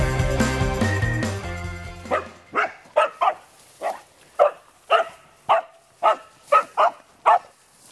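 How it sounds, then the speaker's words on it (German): A hunting dog in training on a wild boar barks repeatedly in sharp, evenly spaced yelps after a brief burst of loud, harsh noise at the start. "Normalerweise muss der Hund jetzt hier wirklich vehement laut geben und an die Sau rangehen."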